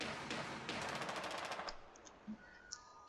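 Rapid automatic gunfire in a video game, a dense burst of shots for about a second and a half that cuts off, followed by a couple of faint game sounds.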